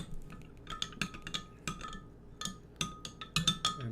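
Glue and water being mixed in a container, heard as a rapid irregular series of light clinks and taps from a utensil striking the sides, close and fairly quiet.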